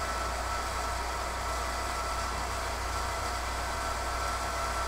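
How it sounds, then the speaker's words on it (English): An AMD stock CPU cooler fan runs at high speed under load, a steady loud whooshing whir with a low hum, constant throughout with no variation or talk. "AMD stock coolers are really loud. When the fan ramps up under load, they can sound like this."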